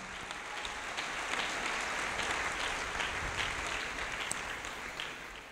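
A congregation claps and acclaims the Lord in a steady, loud, dense wash of applause that holds for several seconds without a break.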